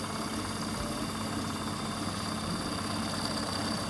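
A lathe runs steadily while a model garden railway roof is shaped and domed with a file, a constant faint motor hum with no breaks and no talk.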